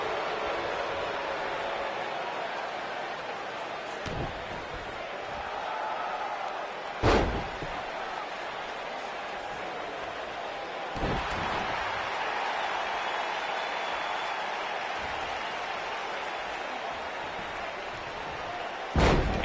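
Wrestlers in the WWE 2K19 video game, with a few sharp, heavy thuds of bodies slammed onto the mat standing out over a constant roar of arena crowd noise and faint commentary.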